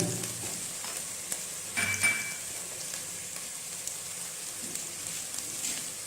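Chicken frying in a pan for vegetable chicken macaroni, giving a steady close sizzle with a brief louder spatter and stir about two seconds in.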